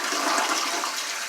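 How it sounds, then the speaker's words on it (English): A toilet with a newly fitted Fluidmaster fill valve flushes, a loud, close rush of swirling water that stays steady for the whole brief moment. "Let's see how this flushes."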